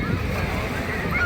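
Sea surf at Dumas beach rushes in with a fast, loud wash of water and wind noise, close to the shore, under brief chatter.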